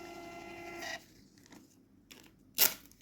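Labdhi Barcode MPoS 1008 mobile POS machine's receipt printer running off a receipt: a whirring printer feed buzz, then quieter mechanical clicks and a sharp tear-like burst near the end, close by.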